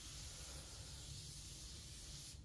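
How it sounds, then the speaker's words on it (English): Paint spray gun at 29 PSI (2 bar) laying a light coat over a repaired plastic panel, a steady close hiss of air and paint running unbroken throughout. "I'm spraying it 29 PSI, which is 2 bar."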